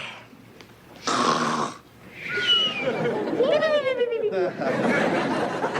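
Snoring imitated by voices as a joke about a father's snoring in a family sitcom home scene, heard as a few loud, drawn-out nasal snorts and rising wheezy tones, with chatter and laughter between them.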